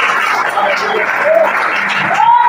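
Church congregation applauding steadily throughout, a dense broadband patter with a few voices and a sung or called note rising above it near the end.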